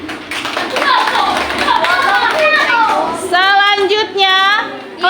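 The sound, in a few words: class applause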